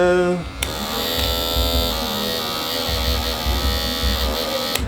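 Electric hair clippers run with a steady high-pitched buzz and hum, close up and continuous, with slight wavering in tone.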